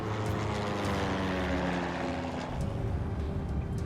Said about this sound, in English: This damn plane